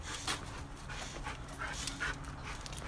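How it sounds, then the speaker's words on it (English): Dogs panting close by, a steady quick breathy rhythm running through the whole moment with no talk over it. "Got the dogs here."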